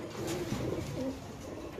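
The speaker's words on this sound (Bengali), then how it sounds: "দুই জোড়া পাকিস্তানি কবুতর তো নাকি ভাই?" Caged Pakistani pigeons cooing in low, rolling, repeated calls, steady and fairly close with a faint background hum.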